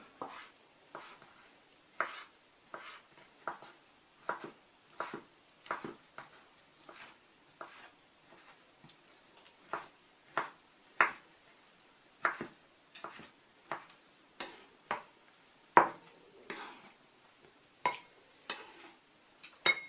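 Knife chopping very ripe, blanched tomatoes into thick cubes on a board, a quiet steady series of sharp taps repeating roughly every second, heard alone.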